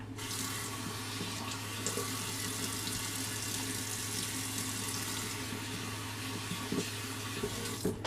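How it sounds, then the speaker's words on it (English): Water runs steadily from a tap while a razor and face are rinsed during a shave, a constant close hiss with small splashing changes in tone throughout. "Let's rinse."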